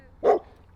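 A single short dog bark, close and fairly loud, standing alone against a quiet background.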